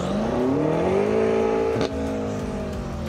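A sports car engine in Sport Plus mode holds a loud, close, sustained rising drone, pitch climbing steadily under acceleration before a brief dip and a steady roar resuming.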